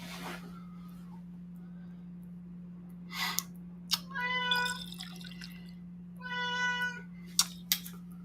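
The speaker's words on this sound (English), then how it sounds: "He's been walking around the house meowing, looking for her." A house cat meows indoors, two drawn-out, close cries a few seconds apart, with faint clicks and a steady low electrical hum underneath.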